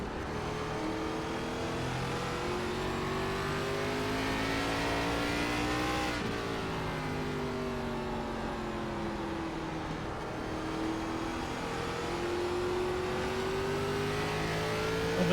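A Legacy ARCA race car held at full throttle at North Wilkesboro in iRacing, its engine a steady, loud droning whine that dips briefly at a shift or lift, then climbs again, continuous with no talk.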